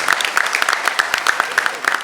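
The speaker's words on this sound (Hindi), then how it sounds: "एक बार जोरदार तालियां आपके लिए" Loud, close audience applause at a theatre performance for the adapter of a stage play, with dense, sharp claps throughout and a faint crowd murmur underneath.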